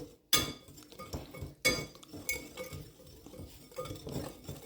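Cake batter of flour, baking powder and salt being mixed in a bowl for a vanilla cake, with a few sharp clinks of utensil on the bowl followed by softer scraping and stirring.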